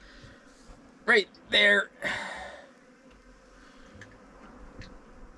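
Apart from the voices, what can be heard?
bees buzzing around a boat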